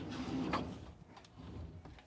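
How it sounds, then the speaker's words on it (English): Sliding plexiglass door on a new Fjord 490 Open boat, one short scraping slide as the panel moves along its track, close and fairly quiet, followed by faint knocks. "you have a sliding door here"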